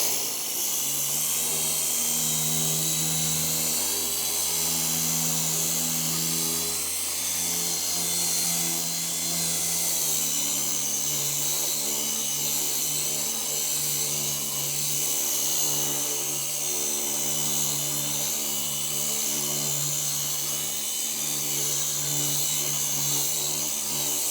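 A power buffer works polishing compound off a Yamaha in a long, steady whine with a constant drone, its pitch dipping briefly as pressure shifts, close and continuous with no talking.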